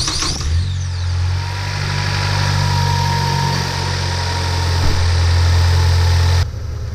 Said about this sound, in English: So go ahead and start it up, let it run for a few minutes